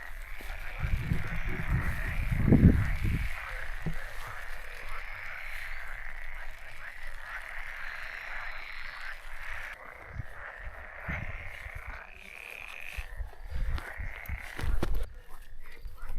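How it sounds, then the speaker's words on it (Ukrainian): A chorus of frogs croaks steadily in a continuous pulsing drone in rainy weather in Pollino, Italy, with some brief low thumps and rustling nearby. "А жаби равкають."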